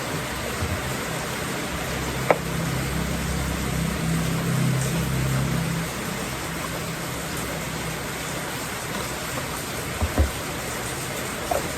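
Steady monsoon rain falling during flooding, a constant even hiss of drops with a low rumble and a few faint knocks, no voices.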